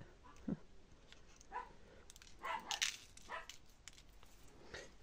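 Dogs at play bark and yip in short, scattered bursts at some distance, with small whimpers between the barks and no talking.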